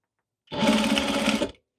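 Sewing machine basting fabric in place, a single quick burst of rapid needle stitching lasting about a second, close and clear with no talk.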